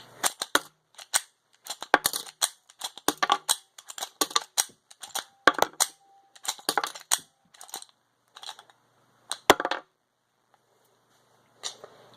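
A Smith & Wesson 40/9 mm pistol with a repaired case ejector is handled, its slide cycled repeatedly to chamber a round; a long series of sharp, close metallic clicks and clacks comes in irregular clusters, then thins out near the end.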